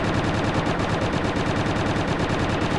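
Enemy gunfire in Quake 2 on PlayStation: a continuous, loud, evenly paced stream of automatic shots with no break and no voices.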